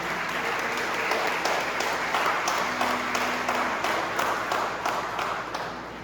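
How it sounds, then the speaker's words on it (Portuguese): A church congregation at a revival service applauds together, a dense, steady wash of clapping hands that fills the room at a constant level throughout, easing off slightly at the very end, with no voices standing out. "Se você querer dar uma salva de palmas aí no teu lugar."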